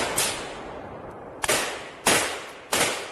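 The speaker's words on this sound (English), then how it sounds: "And now you see them getting in a little bit of a firefight." Sharp gunshots in a firefight during the war in Ukraine, four distinct cracks spaced roughly half a second to a second apart, fairly close and loud over a noisy outdoor background.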